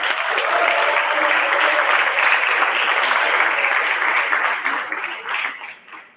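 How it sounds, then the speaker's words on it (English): An audience at a high school science symposium applauds, a dense, even wash of clapping that holds steady and then tapers off toward the end. "Everybody clap for Faris."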